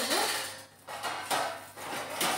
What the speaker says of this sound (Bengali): লেমন গ্রাসটা আমি হচ্ছে কুচি কুচি করে কাটবো।